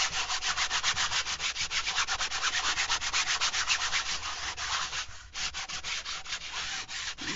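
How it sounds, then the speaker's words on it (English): A sanding block rubs back and forth over heavy-duty fabric on a painted fabric-covered journal, a close, loud, rhythmic scratchy rasp with even strokes and a brief pause near the end. "I use a sanding block."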